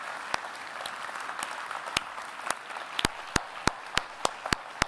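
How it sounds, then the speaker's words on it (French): An audience at a retail business conference applauds a speaker: scattered claps at first, then sharper, more evenly spaced nearby claps that grow more prominent toward the end, with faint crowd murmur underneath. "applaudissons Franck"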